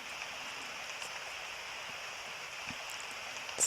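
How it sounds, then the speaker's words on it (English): Steady rain in the video game Ace Attorney Investigations, a soft, even patter with a faint wash of drops and no voices. "It's raining."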